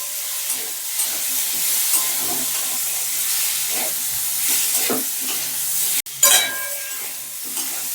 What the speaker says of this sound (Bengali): কচু ছাতু দিয়ে দিচ্ছি মশলার মধ্যে খুব ভালো করে মিশিয়ে নিচ্ছি